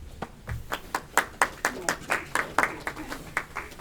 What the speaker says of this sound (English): Oh, I loved the polite golf clap.